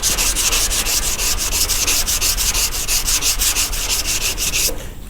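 Car body filler is sanded by hand with sandpaper in rapid, even back-and-forth strokes, a loud, close, rhythmic rasp that continues without a break before stopping abruptly.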